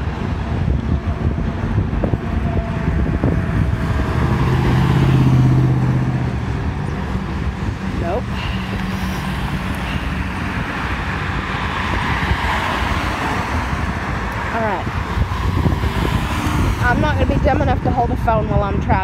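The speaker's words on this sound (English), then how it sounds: "I'm going through traffic" Road traffic rolls past a person walking through it outdoors, with a continuous wash of engine and tyre noise, gusty wind buffeting the microphone, and a voice talking over it.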